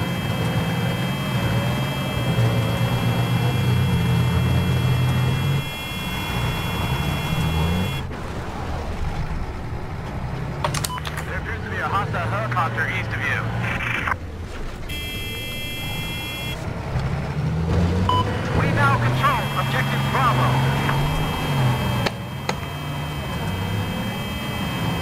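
A helicopter engine in Battlefield 4, with a steady droning hum and buzzing whine that fills the whole stretch and shifts in level as the craft moves, mixed with other game vehicle noise.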